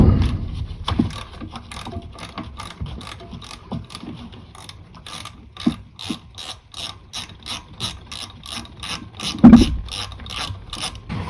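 Rapid ratchet clicking sounds up close as a 14 mm power steering pump belt tensioner bolt is loosened on a 1988-1992 Toyota Corolla 4A-F, in repeated short runs with a few knocks and one louder clunk near the end.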